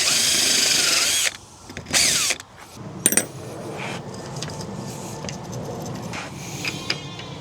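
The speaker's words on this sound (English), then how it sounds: "let's get the falling derrick drilled holes done" Power drill boring holes into a fiberglass tower falling derrick, with a loud high whine for about a second, a few short bursts and clattering knocks, then quieter handling sounds.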